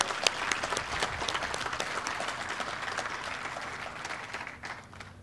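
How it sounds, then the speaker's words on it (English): An audience at a ribbon-cutting ceremony for an industrial technology center claps steadily, a dense even applause that slowly tapers off toward the end. "Let's give them a round of applause."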